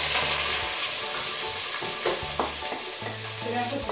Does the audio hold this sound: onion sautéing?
yes